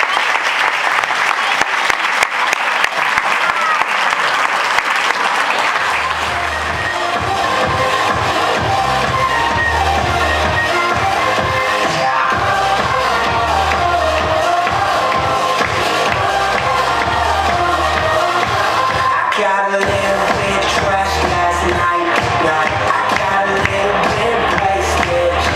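Festival crowd at a summer blueberry festival in Enzklösterle breaks into sustained, loud applause with scattered cheers, and music soon rises underneath as the clapping continues for the whole stretch.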